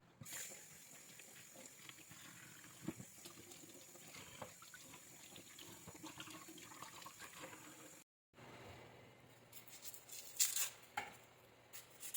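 Tap water runs steadily into a sink as an onion is washed, a continuous hiss with small knocks, briefly stopping before flowing again.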